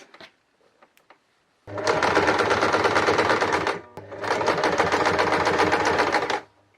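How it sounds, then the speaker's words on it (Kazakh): A sewing machine stitches patchwork quilt triangles onto fabric, running in two long, loud, steady bursts of rapid mechanical whirring separated by a brief pause, preceded by a few faint handling clicks. "Дайындап алған шытымызға үшбұрыштарды қойып, құрақты тігіп бастаймыз."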